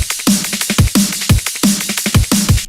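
A steady drum loop at moderate tempo, its kick and hats running under a layered replacement snare that cracks on the backbeat with a bright attack and slight room ambience, loud and continuous with no voices.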